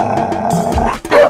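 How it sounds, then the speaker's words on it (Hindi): A dog barks several times in quick, loud bursts close by, ending with a sharper yelp; no speech alongside. "भौंकने वाले कुत्ते नहीं काटते।"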